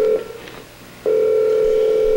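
Telephone line tones during a high school stage comedy: a steady buzzing tone breaks off briefly, then resumes as a loud continuous hum held to the end, close and without talk.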